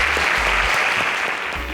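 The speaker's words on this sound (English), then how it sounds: "A round of applause for our alumnus." Studio audience applause at a Nigerian televised quiz competition semi-final, a full, steady burst of clapping from a crowd heard close and loud over a low background tone.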